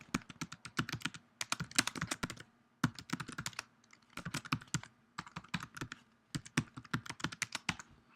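Typing an axis title on a computer keyboard, close and fairly quiet, with rapid bursts of key clicks separated by short pauses and no talking.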